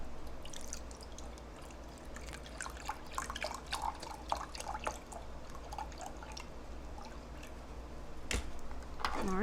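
Milk poured into melted butter for a lava cake batter, a soft trickling and dripping stream heard close but faint, without talk.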